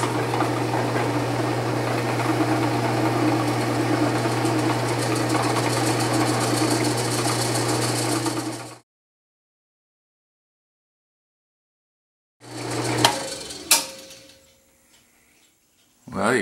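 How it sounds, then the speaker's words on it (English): A small tool reams out the hole in a cushion grip pen, giving a steady whirring buzz with a low hum for several seconds. The buzz stops, then returns briefly with a few clicks and scrapes. "I'm going to ream it out a little bit here, and just see if I can't just enlarge that hole"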